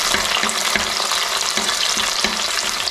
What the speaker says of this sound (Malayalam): ഒന്ന് ഇതായി വരുമ്പോഴത്തേക്കും നമുക്ക് കറിവേപ്പില കുറച്ചിട്ട് കൊടുക്കാം.